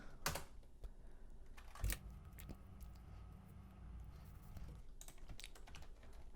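Linux commands being typed on a computer keyboard, with quiet, quick key clicks in uneven bursts and a couple of sharper key strikes, all close and faint.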